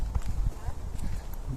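Horse hooves clip-clopping during an afternoon stroll at Southampton, a quick run of soft, uneven thuds close by, under a busy outdoor background.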